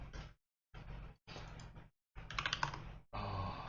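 Close, quiet typing on a computer keyboard as a cmd command is entered, in four short runs of rapid key clicks separated by brief pauses.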